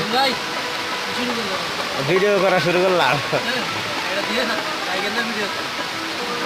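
Heavy rain pours down on the traditional Alokdia village market (haat) as a steady, loud wash of noise, with people talking throughout.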